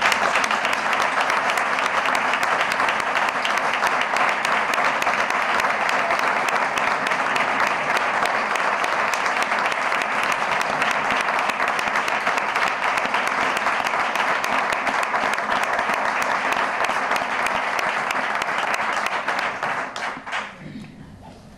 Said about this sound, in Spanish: Pido un aplauso y reconocimiento para él.